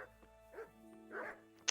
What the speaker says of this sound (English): Stop barking at me